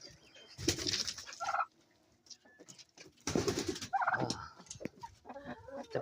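Backyard hens and a turkey clucking and calling close by, in two loud bursts with quieter scattered clucks between them, no talk.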